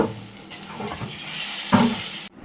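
Millet dosa batter cooking in a hot pan, a continuous close sizzle with scraping stir sounds and a sharper scrape near the end before it cuts off abruptly.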